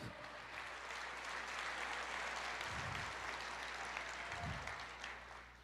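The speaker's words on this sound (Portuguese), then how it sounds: "Aplauda mais forte, porque Ele merece toda a honra, toda a glória" A church congregation applauds during a sermon, steady crowded clapping heard from a distance and somewhat faint, with a couple of low thumps rising from the mass of hands.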